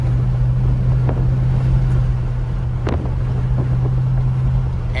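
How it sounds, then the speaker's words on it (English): Constant low wind rush buffets the microphone, like air roaring through the open windows of a moving 1955 Chevrolet with an LS engine swap, with a few faint knocks. "it's a little windy because the windows are down"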